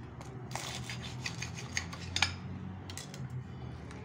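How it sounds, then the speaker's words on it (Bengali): A crispy fried mini mughlai paratha is cut, giving faint, scattered crackles and crunchy snaps over about four seconds in a quiet room. "তো আমি এটা একটা কেটে দেখাচ্ছি"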